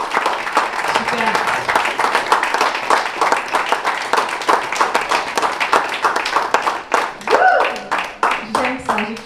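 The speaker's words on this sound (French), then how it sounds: "Applaudissez-vous." Conference audience at a resilience and emotional intelligence workshop clapping together, loud dense rhythmic applause lasting several seconds with voices calling out over it.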